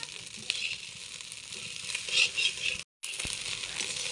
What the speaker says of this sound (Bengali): চুলার আঁচ কমিয়ে দিয়ে এটা বেশি সময় নিয়ে ভাজতে হবে।